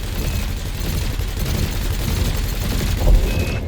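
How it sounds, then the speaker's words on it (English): Ship cannons and lasers in the space combat game Elite Dangerous fire in a dense, rumbling barrage with low booms, steady and loud throughout, with a heavier thump near the end. "Your cannon will automatically reload until the ammunition supply runs out."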